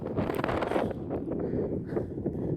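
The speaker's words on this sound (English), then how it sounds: "I'm going to be battling the wind on this one" Gusty wind buffeting an outdoor microphone at Sycamore Gap along a cliff-edged ridge, a steady broadband rush with no gaps and no talk.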